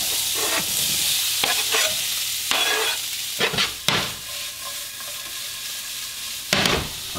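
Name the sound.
onion and ground beef browning in a pan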